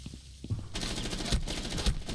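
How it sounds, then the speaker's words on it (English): Rapid automatic gunfire from a recruit operator in Rainbow Six Siege, starting after a brief quieter lead-in, then sustained bursts with a few heavier shots standing out, loud and close. "Why is the recruit shooting me now?"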